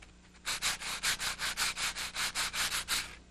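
A percussion instrument being rubbed in a quick regular back-and-forth rhythm, about fourteen close, breathy scraping strokes in a row with no voices.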